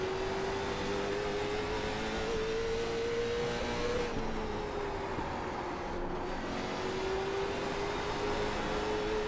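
A Late Model Stock race car in iRacing at South Boston holds a loud, constant engine drone on throttle, its pitch rising, dipping briefly and climbing again as the car runs through the lap.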